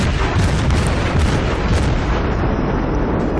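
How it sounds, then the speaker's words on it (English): Naval guns on the World of Warships cruiser Omaha fire in a heavy, booming barrage, loud and continuous, with a rumbling roll of overlapping blasts and no talk. "So you can see I'm firing 5 guns at the same time."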